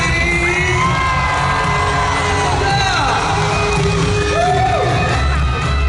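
A large concert crowd in an indoor stadium screams and cheers loudly and continuously, with rising and falling shouts blending into a dense roar.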